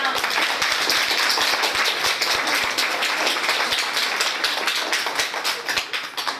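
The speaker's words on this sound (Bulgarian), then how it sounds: "Да ръкопляскаме и за отбора на сръчните ръце." Dense, steady audience applause fills a celebration devoted to nature and health, honouring a team of handicraft makers; close and continuous clapping throughout with a slight fade near the end.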